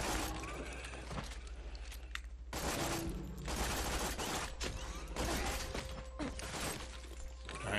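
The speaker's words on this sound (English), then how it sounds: "Shoot these guys in their little thorax, or whatever you want to call that thing." Gunfire from Borderlands 2 as enemies are shot: sustained, loud rapid bursts with crackling impacts, one brief pause early on, then shooting resumes and continues to the end without talk.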